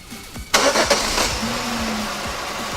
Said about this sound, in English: And we'll start the engine, let it run for a few seconds, shut it off